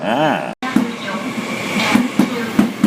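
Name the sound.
Trenitalia Frecciarossa high-speed train entering station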